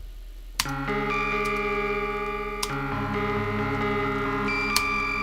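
Bell tones synthesized in Ableton Live ring out as bright, sustained struck notes with shimmering metallic overtones. New strikes come at roughly two-second intervals, and each one layers over the previous notes as they hang and decay.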